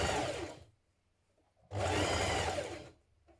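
A sewing machine stitches the hem of a dress in two short bursts, a close, steady mechanical whir that stops briefly in between and restarts.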